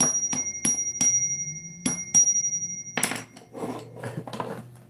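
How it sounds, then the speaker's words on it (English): A notification bell effect for a live stream chimes several times in quick succession, bright ringing strikes with sustained tones, followed by a clattering jingle near the end. "Hit that bell notification so you can get the new videos."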